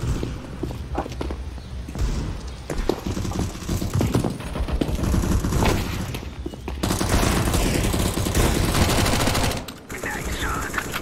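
Dense gunfire from the video game CS:GO, with rapid automatic bursts and single shots repeating loudly over a continuous background of game noise and footsteps, and a voice speaks briefly.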